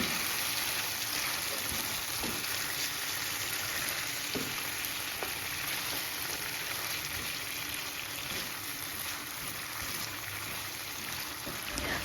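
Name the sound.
stirring chicken in spiced sauce in a pan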